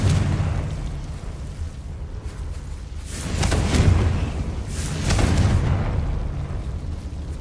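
Confringo fire spell blasts in the video game Hogwarts Legacy: two rumbling explosions a couple of seconds apart, each swelling and then fading over a steady background hum.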